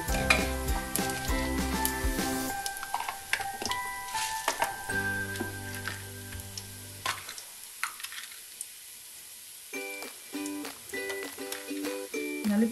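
Biryani masala and crushed bay leaf fry in a little oil for bagara rice, a soft sizzle broken by scraping stirs and light clinks of a utensil against the pan, with a musical tune playing over it.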